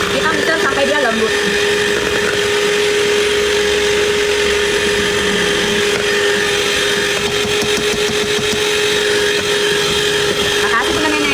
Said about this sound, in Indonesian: Kita mixer sampai dia lembut.